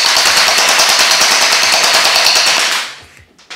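MrBeast Gel Fire Nerf gel blaster firing on full automatic: a loud, close, rapid unbroken stream of clattering shots for nearly three seconds, then a sudden stop with a couple of faint mechanical clicks.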